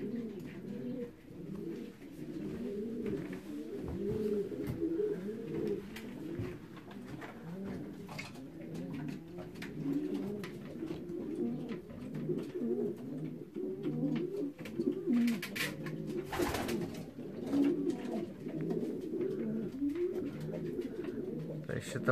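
Racing pigeons coo continuously in their loft on returning from a 309 km race out of Olsztyn, a dense, overlapping murmur of low calls close by, with a voice occasionally heard among them.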